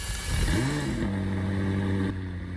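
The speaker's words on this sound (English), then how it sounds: "the startup is pretty calm, not that bad." A roughly 600-horsepower sports car engine in the Roblox game Midnight Chasers cranks and fires up, its pitch rising briefly before settling into a steady, smooth idle hum that drops slightly near the end.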